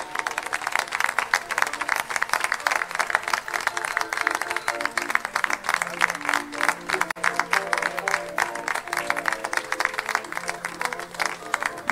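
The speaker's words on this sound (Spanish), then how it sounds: "Un aplauso fuerte para todos." Audience applause at a carnival event, a loud dense crowd of clapping hands sustained evenly throughout, with music tones and some voices mixed underneath.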